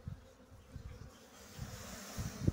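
Honey bees hum steadily around a beehive being readied for the season, a close, low buzzing with a few louder swells as individual insects pass near, no voices.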